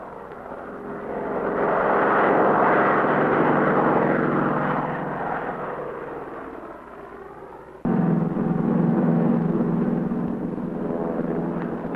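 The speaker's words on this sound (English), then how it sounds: "One large area completed, the plane moves on." Crop-duster airplane spraying DDT over mosquito larvae areas: a loud droning propeller engine swells as it passes close overhead, fades slightly, then a second steady drone picks up, with no voices.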